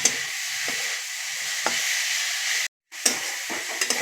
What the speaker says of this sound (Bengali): সর্ষে শাকটা আমার ভাজা হয়ে গেছে